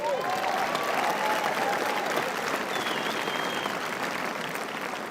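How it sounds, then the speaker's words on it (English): Steady applause from a seated audience at a skin care presentation, continuous dense clapping at even loudness throughout, with faint voices mixed in. "Another round of applause for the video."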